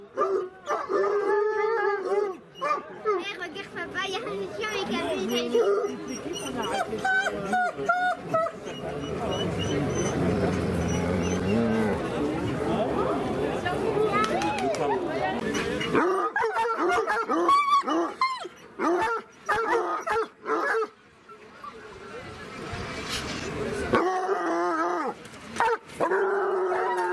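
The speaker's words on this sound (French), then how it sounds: "il y a un chien avec un bébé" Several dogs bark, yip and howl at a rural fair in Compiègne, with a long sustained howling chorus in the middle, amid a noisy outdoor crowd with people talking nearby.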